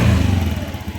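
A Honda Zoomer X scooter with fuel pump trouble runs close by, its engine giving a short, loud, rough burst like a rev.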